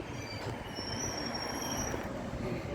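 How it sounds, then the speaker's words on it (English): Two trains meeting at a sky rail station in Victoria, Australia, produce a steady rolling rumble of wheels with thin high-pitched wheel squeals drawn out above it. "And we've got a train meet as well."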